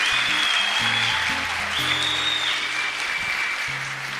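A crowd at a Catholic religious talk claps steadily, a dense, continuous wash of applause with no break, fairly loud and close.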